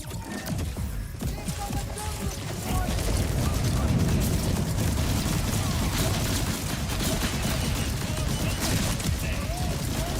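Rapid bursts of incendiary Jacobs gunfire in Borderlands 4 rattle on almost continuously amid explosions and crashing effects, loud and dense, with someone talking over the action.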